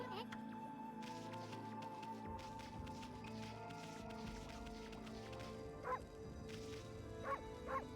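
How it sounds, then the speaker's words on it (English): A wolf character barks in the video game Okami HD, giving a few short yips near the end over steady game music, while a voice talks through the clip. "I love that you can bark."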